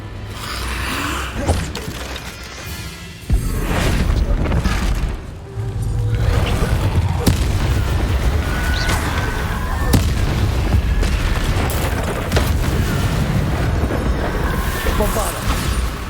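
Repeated Bombarda explosion spells in Hogwarts Legacy gameplay boom heavily amid combat, with deep blasts, impacts and crackling effects layered over game music and shouted spell casts.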